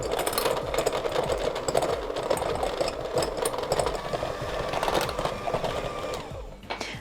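Electric hand mixer beating softened butter in a mixing bowl, a steady close whirring buzz with rattling against the bowl that runs continuously, then cuts off near the end.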